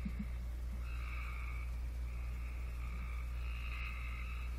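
Cope's gray tree frog calls in short, harsh, raspy trills, a few bursts in sequence, fairly faint over a constant low droning background.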